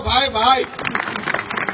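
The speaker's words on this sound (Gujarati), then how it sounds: "એમની આખી ટીમ માટે તાળી પાડો" An audience at a Gujarati folk dayro gathering breaks into applause, a short burst of scattered clapping right after someone speaks.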